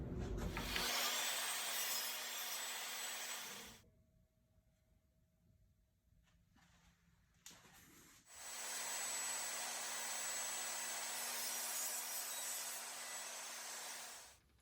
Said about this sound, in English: pushing it through, I should slice off this lower tab, giving me a 3/8 by 3/4 rabbet